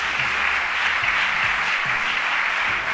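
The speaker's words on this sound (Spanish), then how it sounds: "Denle un aplauso fuerte a Dios." A church congregation applauds loudly and steadily, a dense wash of clapping that holds at an even level from start to finish with no voices over it.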